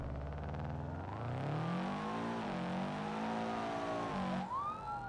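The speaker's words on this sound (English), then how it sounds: "you can hear that boxer engine" The lowered Sunburst car's boxer engine revs in the BeamNG driving game as a smooth, tonal drone. The pitch climbs, dips and swells with the revs, then sweeps sharply upward at the end, with no talking.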